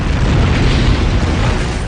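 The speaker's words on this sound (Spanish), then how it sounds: "Esa explosión propaga la energía por una amplia región del suelo que está debajo." An asteroid explodes in the atmosphere, rendered as a loud, sustained roaring boom that fills the whole moment without letup or speech.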